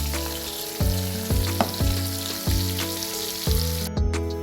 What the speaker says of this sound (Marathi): आता आपण ह्याच्यात चांगले कांदे लाल करून घेऊ